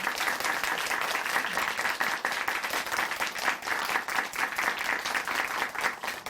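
Sustained, steady applause from a church broadcast audience after a testimony, dense and even throughout with no talk over it.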